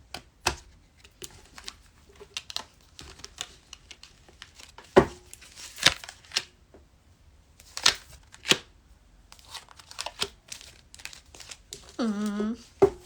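Tarot deck shuffled and cut during a live channeled reading, with soft scattered riffles and crisp card snaps in short bursts, heard close and fairly quiet between pauses.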